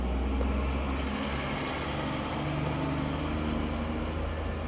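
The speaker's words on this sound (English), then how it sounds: "Gonna wait for the work truck to go past." A work truck driving past on the road outside, a faint steady low rumble of engine and tire noise lasting the whole stretch, with no voices.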